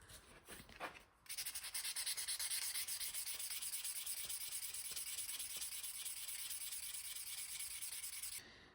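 A wooden knife handle with a cast coin inlay is worked with 800-grit sandpaper, giving a steady, close, hissing rub that runs continuously in quick even strokes after a few brief starting scrapes.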